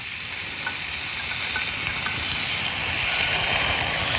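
Steady, loud sizzling and frying crackle from mushroom skewers in a hot oiled pan, continuous throughout with no talking.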